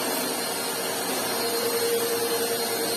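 A Wap Life Speed 2-in-1 upright vacuum cleaner, 2000 W, runs steadily with a loud, broad whooshing roar and a faint whine, constant and close with no talk.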